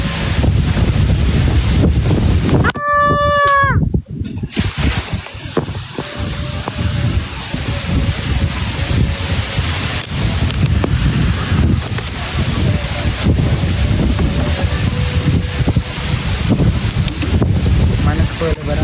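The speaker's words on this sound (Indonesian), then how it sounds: "Kencang angin, kencang" Strong wind roars and buffets the microphone steadily throughout, near and loud, with people talking faintly beneath the gusts.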